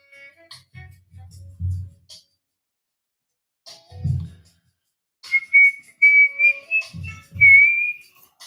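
A person whistles a few short, sliding, wavering notes in intermittent bursts, close and clear, separated by low thumps and pauses.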